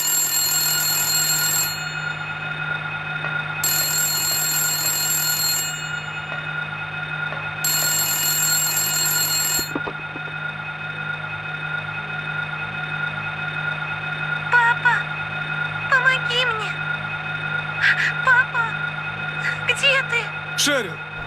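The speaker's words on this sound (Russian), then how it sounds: "когда вдруг телефон зазвонил." In Silent Hill 1, a telephone rings in a room of dead landline phones, with three long electronic ring bursts over a low droning ambience, followed by faint scattered chiming tones.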